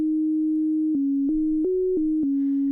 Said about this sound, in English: I have the subtractor here set to a sine wave, producing a sine wave